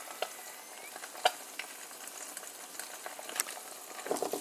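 Butter eggs and garlic bacon fry in a pan with a steady soft sizzle, scattered light pops and crackles over a few seconds, fairly close and without talking.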